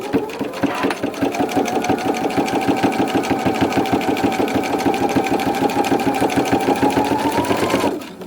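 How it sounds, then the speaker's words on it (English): A sewing machine stitching a quilt, running steadily for about seven seconds with a fast, even mechanical chatter, close and loud, then stopping. "now I can continue sewing in the other direction"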